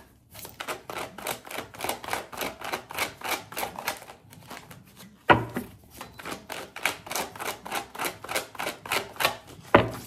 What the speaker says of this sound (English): I don't know why I keep having to shuffle these cards